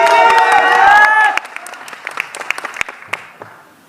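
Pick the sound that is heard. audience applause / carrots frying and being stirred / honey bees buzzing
audience applause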